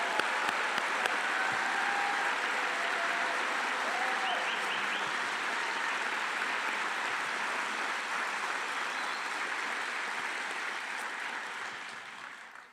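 Sustained audience applause welcoming first-year medical students at a white coat ceremony, a broad even wash of clapping from a large hall crowd that holds steady and then fades out at the end.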